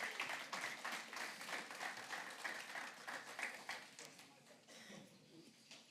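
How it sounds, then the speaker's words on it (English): A small audience claps for volunteers, a brisk round of applause heard at low level that fades out after a few seconds. "Shall we give our volunteers a round of applause?"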